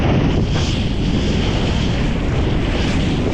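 Strong wind gusts across open Lake Michigan water on an autumn morning, a loud, steady rushing roar buffeting close to the microphone with a wash of waves beneath and no voices.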